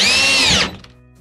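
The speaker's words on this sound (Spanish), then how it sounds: "Tengo acá el taladro." An electric drill boring a hole during a motorhome shower remodel gives a loud, high-pitched whine for about half a second, then spins down abruptly and falls nearly silent.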